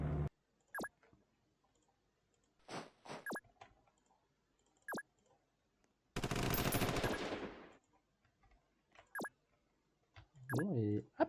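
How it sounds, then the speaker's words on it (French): Gunfire in a video game: sharp, isolated shots crack at irregular intervals with silence between them, followed by a dense sustained burst, and a few more single shots, close and clear. "Je tire là-dessus avec ça."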